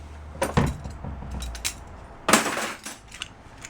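Stainless steel spoons and flatware clinking in a bucket, a few sharp metallic rattles in quick clusters, close and fairly quiet, with no talking.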